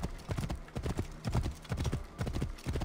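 Steady clip-clop of horse hooves at a trotting rhythm in the video game Assassin's Creed: Origins, continuous and fairly close, with a busy rumbling background.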